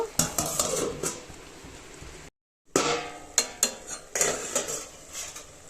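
Metal lid and utensils clinking on a cooking pot while taro stolons simmer down for a Bengali chorchori, sharp clanks and scrapes near the mic, a brief gap, then more rattling over a faint background sizzle.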